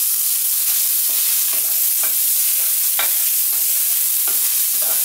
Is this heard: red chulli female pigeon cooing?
no